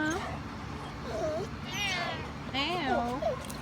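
A cat meows several times in rising, wavering calls near the listener, with people talking softly around it.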